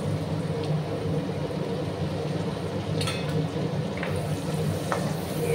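Chopped ginger and onion fry in hot oil for poha, giving a steady, close sizzle throughout with a few brief stirring scrapes and no talking.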